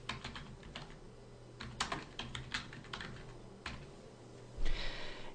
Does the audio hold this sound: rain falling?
no